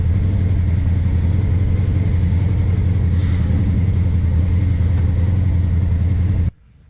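A 1972 Chevrolet Chevelle with an 1800-horsepower engine cruises gently, its loud, deep, steady engine rumble holding without revving for most of the time before cutting off abruptly near the end.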